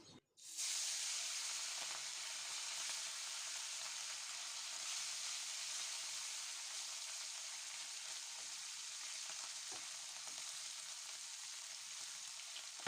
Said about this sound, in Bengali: মাছগুলো উল্টে পাল্টে একটু লালচে করে ভেজে নেব